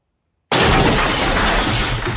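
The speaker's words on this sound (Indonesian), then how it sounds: "dirinya tiba-tiba mendengar barang-barang yang pecah sendiri" Objects shatter and break in a night scene from the horror film The Conjuring (2013). After brief silence, a loud crash of breaking glass and debris bursts in and sustains with a dense, ringing clatter.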